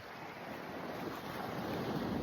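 Steady roar of surf and breaking waves under an approaching typhoon, with wind buffeting the microphone, continuous and fairly loud throughout, no voices.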